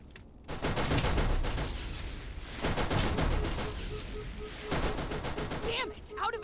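Sustained automatic gunfire in the Borderlands shooter, loud and dense bursts with brief lulls, mixed with game effects and some speech-like sound underneath.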